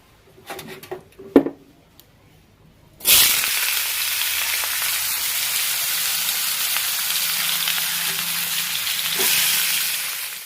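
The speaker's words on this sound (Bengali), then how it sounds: "এবারে শশাটা ভাজবো।" Cucumber slices hit hot oil in a village kitchen, setting off a loud, steady sizzle that runs unbroken after a few soft clinks and taps. They are being fried for a fish curry.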